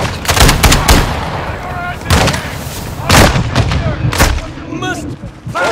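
Grenade blast in Call of Duty Modern Warfare 2 DMZ, a loud boom amid repeated heavy gunfire and shots across the battle, with voices shouting in between.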